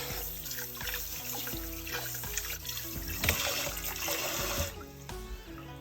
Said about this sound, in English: I'll also take some more water and just wash off any that's sticking on the meat.